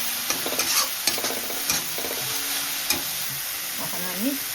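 Mustard paste fries in a pan for a Bengali fish curry, with a steady hiss under repeated scraping and clinking strokes of a spoon stirring it, close and fairly loud.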